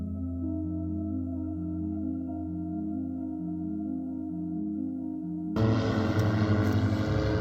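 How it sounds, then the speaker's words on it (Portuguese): A propeller airplane passing overhead drones with a steady low throbbing hum that shifts pitch slightly, then gives way abruptly to louder broadband roar toward the end; no voices. "Passando um avião aqui, vamos esperar ele passar um pouco."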